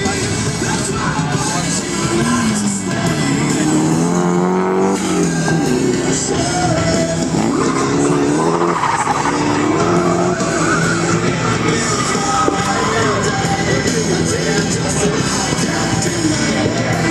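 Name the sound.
drift car skidding with tire squeal at drift event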